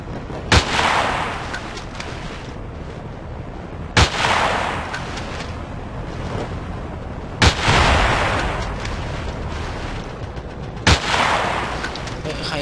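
Heavy gunfire and explosive blasts in the video game Battlefield 2, four loud, sharp booms spaced a few seconds apart, each trailing into a long rumbling decay, with faint game noise between them.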